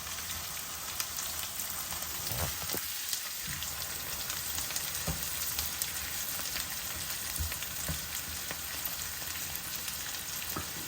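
Green chillies fry in butter in a pan, giving a dense, continuous crackling sizzle heard close up for the whole stretch, with occasional soft knocks as the pan is stirred.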